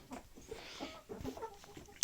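Chickens cluck softly and steadily while being fed, close by, with a short louder sound at the very end.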